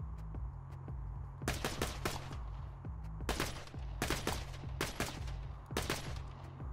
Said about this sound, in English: Oh, it's a semi-automatic pistol gun.